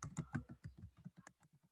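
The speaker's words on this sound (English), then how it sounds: "is typing in the word transparent" Typing on a computer keyboard: a quick run of about a dozen soft, close key clicks in an uneven rhythm, quiet and alone with no talking.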